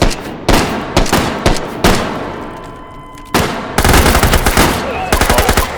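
Rapid SMG bursts from dual-wielding Combine soldiers in the VR shooter H3VR, loud and close, coming in repeated stuttering volleys with short gaps and a dense sustained run of fire at the end.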